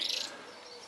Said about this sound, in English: way at the back there singing, 5, chaffinch.